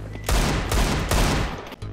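Loud gunfire in the shooter game Counter-Siege: Battlegrounds, three or four heavy booming shots in quick succession over two seconds, each with a short echoing tail.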